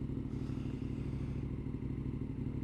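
A motorcycle rides through Cardiff, its engine a steady, low, muffled rumble with faint clatter and no voices.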